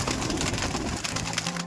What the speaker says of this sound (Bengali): দেখুন পায়রা দেখুন